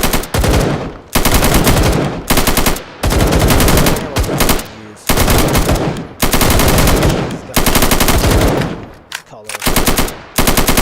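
Video game soldiers fire machine guns in long, loud, rapid bursts separated by short gaps, with a voice briefly heard between volleys.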